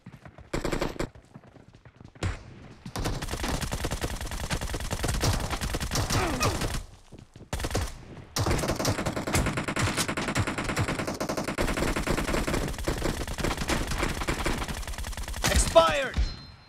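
Automatic gunfire during a PUBG video game gunfight, long rapid bursts that keep going through most of the stretch, broken by a few short silent gaps, with brief game voice callouts.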